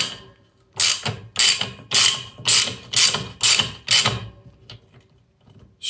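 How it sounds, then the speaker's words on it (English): Socket wrench ratcheting by hand while tightening a bushing into a cast iron radiator steam trap: six loud, evenly spaced bursts of rapid clicking close up, then quiet. "now you can use the socket to sort of hand work it in"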